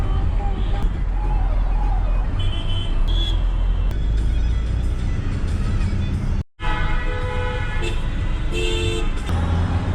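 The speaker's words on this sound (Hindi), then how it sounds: "ट्रैफिक हर जगह है भैया" Busy street traffic in Srinagar, with car engines rumbling close by and repeated horn toots cutting through, a brief dropout midway, then more honking layered over the road noise.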